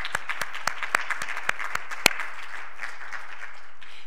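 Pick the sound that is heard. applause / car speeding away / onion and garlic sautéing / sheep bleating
applause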